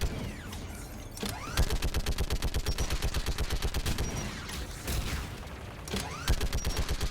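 A mounted turret in the video game Mass Effect 3 hammers out rapid automatic bursts, loud and close, with sharp rhythmic shots in several strings separated by brief pauses and heavier booms.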